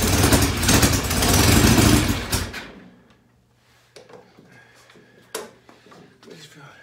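A Norton Commando 750 motorcycle engine, recently brought back to running, revs loud and close under throttle for about two seconds, then falls away to a quiet low idle with scattered clicks and knocks.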